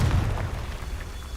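A Confringo blasting-spell explosion in Hogwarts Legacy: a deep, rumbling boom that hits hard at the start and then decays through a low, noisy tail.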